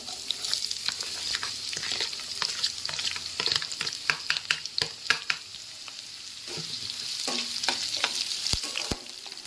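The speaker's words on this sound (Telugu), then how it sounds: "ఎండుమిర్చి పోగులు దోరగేయాయి కదా ఇప్పుడు ఉల్లిపాయ ముక్కలు ఒక హాఫ్ కప్పు ఉల్లిపాయ ముక్కలు వేసుకో" Onion pieces frying with dried red chillies in a pan, a steady bright sizzle broken by frequent scraping stirs and clinks of the spoon, close and moderately loud.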